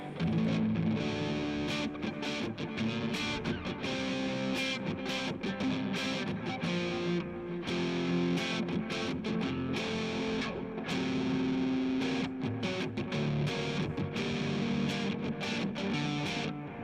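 A 7-string electric guitar played through a distortion effect roars continuously with thick, saturated chords and sustained notes, loud and close, with no talking.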